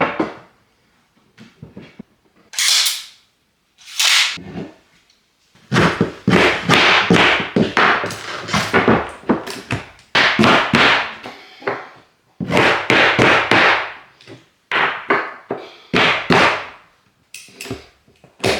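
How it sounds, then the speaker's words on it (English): Hardwood floor boards being nailed into a subfloor, giving a series of sharp, loud percussive strikes in irregular bursts with gaps of quiet between them, close by and without talk. "And then you nail through here into the floor."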